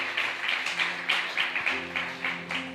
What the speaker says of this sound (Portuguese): uma salva de palmas ao nosso Deus pela Sua palavra